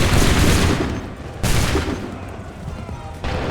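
A musket volley crashes out in Assassin's Creed III, a video game set during the American Revolution, with two loud bursts of massed gunfire a little over a second apart, each fading into a rolling, crackling tail over a busy battlefield.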